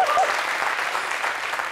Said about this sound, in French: on applaudit un peu pour lui